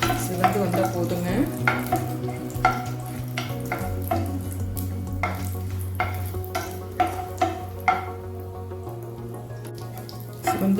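About fifteen cashew nuts roasting in a pan for rava idli, a soft frying hiss under repeated spoon scrapes and stirring knocks, with a low steady hum behind and no voices.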